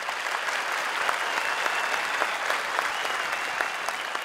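Sustained, dense applause from an audience after a performance by a music group, steady and fairly loud throughout without a break.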